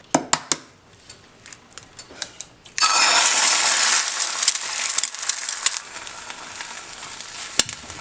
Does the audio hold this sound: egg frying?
yes